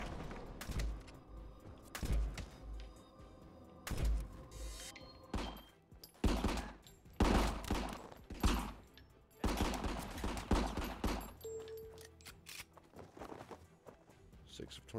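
Rapid bursts of gunfire in the PS4 shooter RICO, loud cracks and volleys coming in clusters amid footsteps and thuds, with someone talking over the action.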